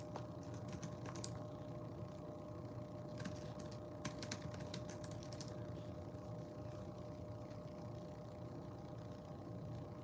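Keys clatter on a computer keyboard as a web search is typed, in quick bursts of clicking separated by pauses, over a steady low background hum.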